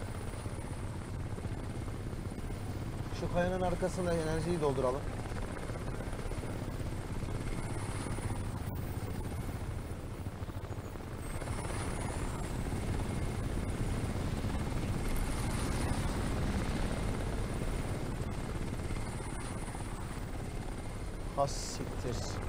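Attack helicopters in Crysis Remastered, a loud continuous rotor thrum and engine drone that holds throughout, with someone talking briefly over it.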